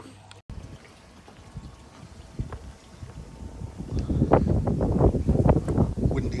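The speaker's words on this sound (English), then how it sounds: "windy day, man." Wind gusting outdoors on a windy day at a garden koi pond build site, a steady rushing roar that buffets the microphone and swells louder in the second half, with no talking.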